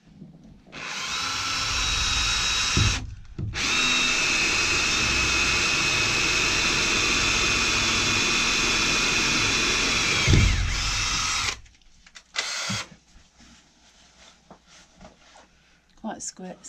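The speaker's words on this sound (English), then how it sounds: "Quite scary drilling into the ceiling." A power drill bores into the ceiling of a narrowboat during fit-out, whining loudly in two long sustained runs separated by a brief pause, followed by quieter knocks and shuffling.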